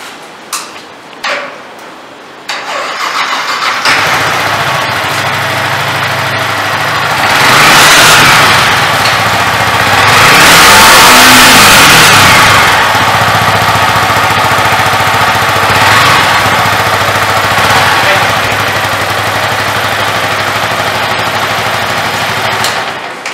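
A 2020 Yamaha R15 BS6 sport motorcycle idles close by after a few clicks, then revs in several swelling bursts whose loudness rises and falls over a steady engine hum, with no talk.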